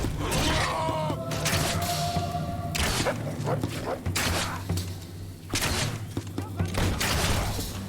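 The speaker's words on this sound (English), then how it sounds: "That guy just tried to shoot me and miss from that distance?" In the video game Fable II, several sharp gunshot-like cracks and thuds land among clattering combat noise, with a voice talking over parts of it.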